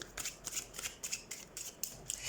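Tarot cards shuffled in quick, faint riffling bursts, a rapid papery flutter repeating about ten times over two seconds with no talking.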